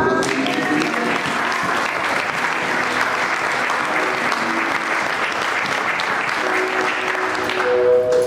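A church congregation applauds during a French-language sermon, a steady, dense wash of clapping that holds loud and even for the whole stretch, with a faint voice underneath near the end.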